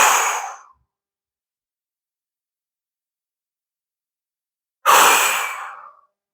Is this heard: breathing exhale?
yes